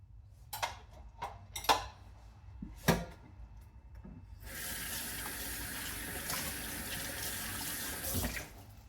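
Dishes being washed at a sink: a few sharp clinks and knocks of a bowl and dishware, then a tap opens into a steady, close rush of running water that continues to the end.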